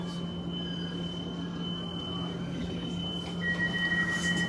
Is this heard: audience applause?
no